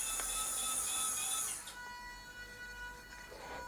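Small electric actuator whirs faintly as the suspension of an RC model tanker rat rod lowers into a flat rake position, a thin mechanical buzz that stops midway, leaving quiet servo hum.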